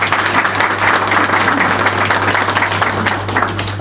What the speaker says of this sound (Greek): θέλει ένα χειροκρότημα